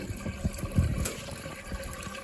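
Water pumped from the top of a hydroponics growing kit, trickling and splashing steadily down through the channels, a continuous low gurgling flow close by with no talking.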